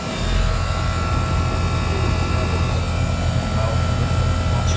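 A bastardized two-ton 2019 Goodman GSX14 air conditioner, converted from a rotary to a Bristol Benchmark reciprocating compressor, runs with a loud, steady low hum and fan roar, close by and alone.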